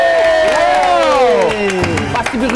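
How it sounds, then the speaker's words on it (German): A studio audience at a German game show cheers and applauds for the day's winner, a loud dense crowd roar with whoops, shrill tones sweeping through the first half before it thins into scattered shouts. "Doch noch ein größerer Applaus für den heutigen Gewinner,"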